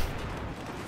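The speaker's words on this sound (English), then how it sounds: "That was a grenade." A grenade blast in Battlefield 4 on the Operation Locker map: a loud, dense, rumbling burst that fills the whole second, with no pause or quiet tail.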